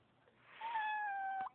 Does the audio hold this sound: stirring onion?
no